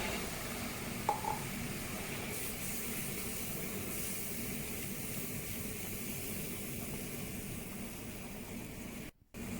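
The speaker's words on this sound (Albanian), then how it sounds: "E pjekëm pra millin me margarinë apo t'ynë." Flour cooks in margarine in a pan for a béchamel sauce for vegetable lasagna, a steady soft sizzle and hiss running throughout with a brief dropout near the end.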